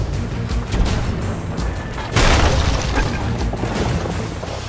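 Cannon fire from a pirate ship in the Sea of Thieves video game during a fight at the Reapers, heavy booms rolling over a constant sea and wind bed, with one loud blast landing about midway and no talk.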